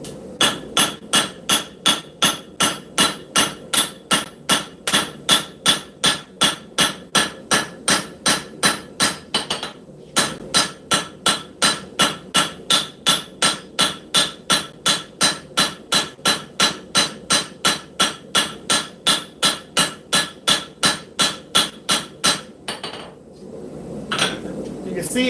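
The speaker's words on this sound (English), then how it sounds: "We're going to continue to forge the bevels in." A hammer strikes hot scrap steel on an anvil in a fast, even rhythm while forging bevels into a blacksmith knife. The ringing, clanging blows come close and loud, pause briefly midway, then resume before trailing off.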